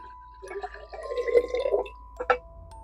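Liquid is poured into an Instant Pot over uncooked spaghetti and jar sauce, a short soft trickle and splash with a couple of drips, close and quiet against a faint background hum.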